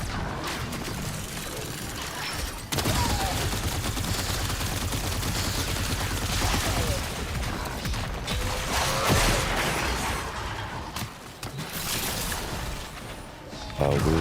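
Weapon fire in the video game Warframe, a dense, continuous clatter of shots and mechanical effects running nearly the whole time, loud and busy, with a brief drop near the start and several short gaps later.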